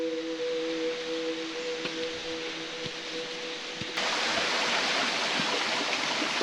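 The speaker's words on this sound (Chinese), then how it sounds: "越過小溪澗。" Small mountain stream on a hillside hiking trail flowing steadily as a faint, continuous wash of water that grows louder and brighter partway through, with no talk.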